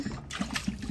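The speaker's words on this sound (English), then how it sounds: "So you wash your pan" Water sloshes and trickles as a cooking pan is rinsed in a kitchen, producing a brief run of soft splashes and gurgles close by.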